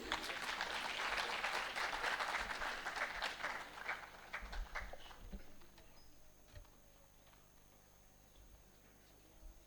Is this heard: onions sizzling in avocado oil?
no